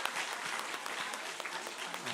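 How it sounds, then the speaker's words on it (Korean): Congregation applauding at a church ordination and retirement ceremony for elders, dense steady clapping filling the room from start to finish. "함께 박수해 주시기 바랍니다"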